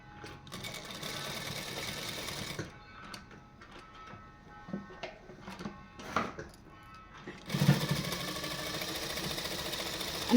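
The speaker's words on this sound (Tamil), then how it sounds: "இப்படி ஸ்டிச் பண்ணிவிட்டு இப்படி திருப்பினீங்கன்னா ஒரு 1/2 இன்ச்சில் ஸ்டிச் பண்ணிட்டு" A sewing machine runs stitching fabric in bursts: a steady fast mechanical whir at the start, then quieter clicking and ticking while the material is adjusted, before the motor starts up again loud and close.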